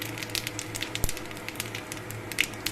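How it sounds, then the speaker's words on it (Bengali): Whole white cumin seeds hit hot oil for tempering, giving a steady close crackling sizzle with scattered pops and one sharp snap partway through. "এবার এই তেলের মধ্যে আমি এখানে ফোড়ন দিয়ে দেবো। প্রথমে সাদা গোটা জিরে"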